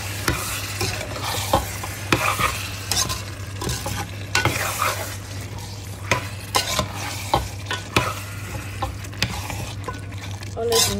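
Green vegetables sautéing in a pan, a constant sizzle broken by frequent scraping and clattering strokes of stirring throughout, close and fairly loud, no talking.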